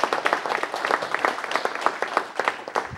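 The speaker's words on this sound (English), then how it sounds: "Everyone give them a round of applause." Short burst of audience applause at a city council meeting, many hands clapping in a fairly close, busy patter that holds steady for a few seconds.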